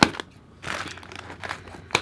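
Paper packaging around a yarn order being torn and cut open with scissors, giving short crinkling, ripping bursts at the start, middle and end, close by and fairly quiet.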